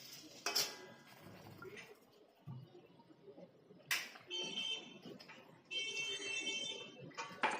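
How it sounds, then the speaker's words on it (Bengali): A metal lid clanks onto a cooking pot of chicken in a kitchen, with a few sharp clinks and rattles among quiet background clatter, close and without speech. "আবারও ঢাকনা দিয়ে দিলাম।"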